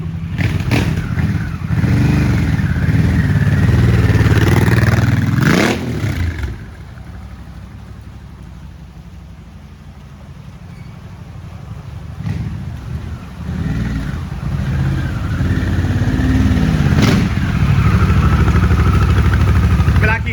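A Harley-Davidson motorcycle with an aftermarket FahrunnPerformance 2-into-2 carbon exhaust revs loudly, drops to a lower idle, then revs up again with a throaty exhaust note.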